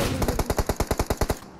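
Rapid automatic gunfire in the mobile battle royale game PUBG Mobile, a burst of about a dozen evenly spaced sharp shots, loud and close, ending abruptly.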